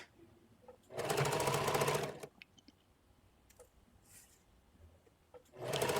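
Sewing machine stitching the placket and hem of a skirt, with a loud motorized run of rapid stitches lasting about a second, a pause filled with small clicks and handling, and then another burst starting at the end.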